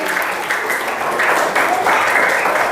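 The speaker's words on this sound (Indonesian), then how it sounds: "Tepuk tangan dulu dong untuk kita semua." Schoolchildren of an elementary class applaud together in a classroom, a loud steady clapping that swells in bursts over a few seconds.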